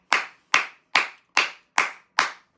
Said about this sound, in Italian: volevo fare un grande applauso